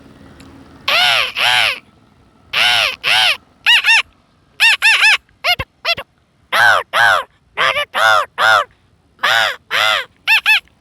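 A person with a slightly hoarse voice imitates a parrot with loud, harsh squawking calls in short bursts of two or three, separated by brief pauses.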